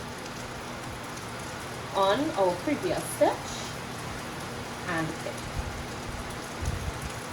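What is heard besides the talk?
rain falling outside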